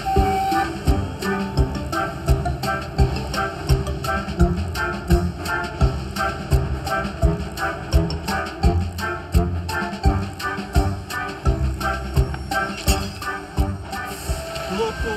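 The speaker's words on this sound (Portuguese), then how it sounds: "Locomotiva esplêndida passando!" A cartoon steam locomotive chugs past in a continuous rhythmic clatter with a whistle over it, loud and close, under music and animated character voices.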